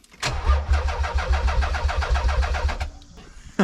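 A Turbo Z car with a newly fitted engine cranks over on the starter, a rapid rhythmic churning that runs steadily for about two and a half seconds, close and loud, then stops.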